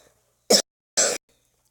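Two short, sharp coughs about half a second apart, close by, with silence around them.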